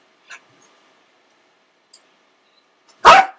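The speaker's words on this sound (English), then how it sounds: "He has to bark every time." A dog indoors gives one sudden, loud bark close by near the end, after a stretch of near silence with only a few faint small noises.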